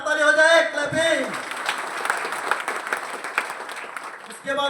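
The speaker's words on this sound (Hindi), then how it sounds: "एक बार हाथ ताली हो जाए, क्लैपिंग।" A burst of clapping from a group, dense and steady, sitting between a voice at the start and again at the end.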